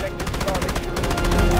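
Rapid bursts of automatic gunfire from the free shooter game Garena Delta Force, loud and close, a fast repeating rattle of shots filling the whole moment.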